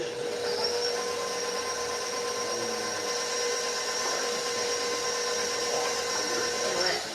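A kitchen mixer runs at a steady, high whine while it stirs a holiday recipe with food coloring added. The constant motor drone carries on unbroken throughout, with faint voices in the background.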